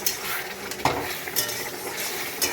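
Tender young jute leaves stir-fried in a pan, a soft continuous sizzle broken by a few clinks and scrapes of a utensil against the metal, close up with no talking.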